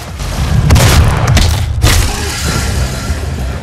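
Gunfire and explosive booms in the DOOM demo, a shooter video game, loud and dense with heavy thuds layered continuously, with no speech.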